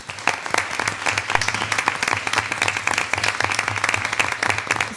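Dense applause from an audience at a school Board of Education meeting, steady and continuous clapping from a modest crowd, fairly close, with no talk over it.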